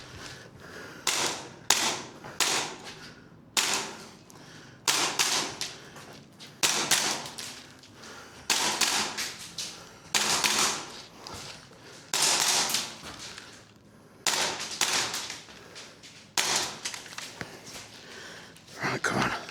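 Repeated sharp pops from an airsoft pistol fitted with a heavy tracer unit on the barrel, fired in quick bursts across a timed shooting course, each cluster of shots crisp and close with short gaps and faint movement noise between.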